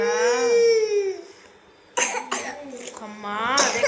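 A small child coughs in a few rough, close bursts after a stretch of tearful, wailing crying.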